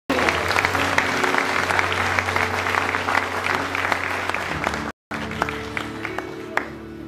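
A church congregation at a Baptist celebration service in Bragança Paulista applauds steadily and loudly. The clapping breaks off for a moment, then picks up again.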